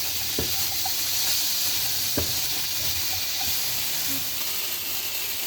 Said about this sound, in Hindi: तेज़ आंच से हम इसको 1 से 2 मिनट जो है सौते करेंगे, ताकि हमारी वेजिटेबल्स का क्रंच भी ना ख़राब हो